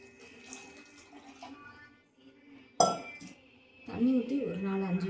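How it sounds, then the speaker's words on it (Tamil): Water poured from a tap into a pressure cooker holding soaked chickpeas, with clinks of metal and a gushing fill in the second half, heard close in a kitchen. "இப்போ குக்கரில் சுண்டல் போட்டு தண்ணி ஊற்றியாச்சு."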